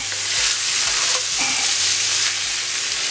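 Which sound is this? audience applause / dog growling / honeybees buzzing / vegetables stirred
vegetables stirred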